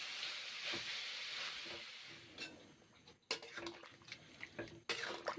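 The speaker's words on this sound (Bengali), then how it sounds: "জল দিলাম কষে নিয়েছি বেশ ভালো করে তারপর এখন জল দিয়েছি" Water hits a pan of frying cauliflower and mushroom curry with a broad, hissing sizzle that slowly fades, followed by several sharp clinks and scrapes of a utensil against the pan, close by, with no talking.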